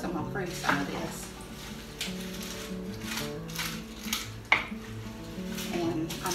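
Mexican casserole mixture being stirred in a pan, a steady run of scraping and clinking of utensil against cookware with a faint sizzle underneath and one sharper knock partway through, no talking.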